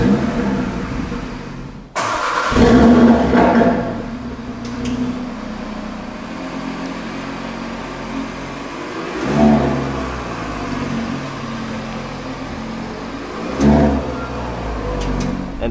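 An Audi RS3 sedan in dynamic drive mode with its exhaust valves open fires up with a sudden loud burst, settles into a close idle, then gives two sharp revs later on.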